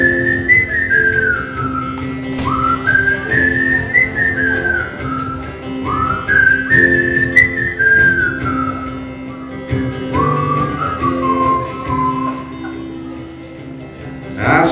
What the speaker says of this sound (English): We're gonna whistle a little bit.